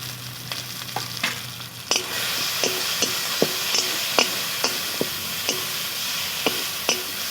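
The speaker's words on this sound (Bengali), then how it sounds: "আর দিয়ে দেবো টমেটো কুচি" Chopped tomato goes into a hot pan of frying fish curry with mustard and turmeric, sizzling steadily while a spatula scrapes and taps the pan in an irregular rhythm of sharp clicks.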